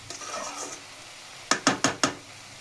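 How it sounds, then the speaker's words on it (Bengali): Shrimp and pointed gourd being stirred in a pan: after a quiet stretch of faint sizzle, four sharp, evenly spaced scraping knocks of a spatula against the pan sound up close and loud. "আমি একটু নেড়ে চেড়ে নিলাম"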